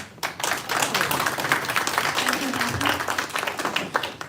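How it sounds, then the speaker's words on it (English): Audience at a community anniversary dinner reception applauds steadily for about four seconds, a dense wash of clapping hands at moderate loudness, with faint voices mingling underneath. "A round of applause."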